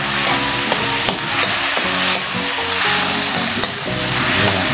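Sari-sari vegetables with lemongrass and shrimp paste fry in a pan, sizzling loudly and steadily up close with repeated stirring scrapes, no talking.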